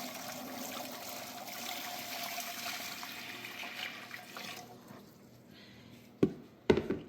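Water pours steadily into an All-American pressure canner, a continuous rushing stream that fades out, followed by a couple of sharp knocks near the end.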